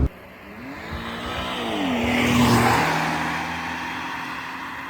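A 1.8-ton BMW E39 530i Touring driven hard, its engine note climbing and rising in loudness as it revs up through a gear, then easing off, close and clear with no talking.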